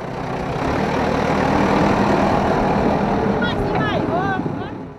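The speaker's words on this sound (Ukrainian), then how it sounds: "Трактор поїхав, зараз приїде інакший трактор більший" A tractor engine runs at a demolition site in Kholodnovidka, giving a steady, loud, close rumble throughout, with a few faint high chirps near the end.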